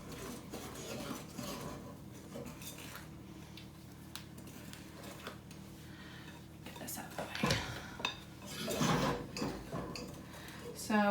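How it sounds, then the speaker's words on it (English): Thick peanut butter cookie batter with eggs, sugar and vanilla worked in a bowl, producing close scraping and clinking of a utensil against the bowl in irregular strokes, louder toward the end, with some faint background sound. "you just wanna really do a good job incorporating that eggs, sugar, and vanilla into your peanut butter"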